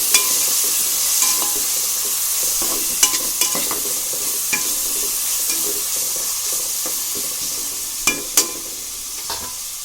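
Onion with turmeric frying in a pan for a mutton liver dish, a loud continuous hiss of sizzling oil broken by scattered clicks and scrapes of a stirring utensil.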